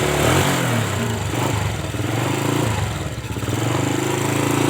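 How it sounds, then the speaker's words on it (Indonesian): A Honda Legenda motorcycle engine runs close by after a repair, a loud continuous rumble with slight swells in pace, no voices. "Kita tinggal untuk menghidupkan mesin."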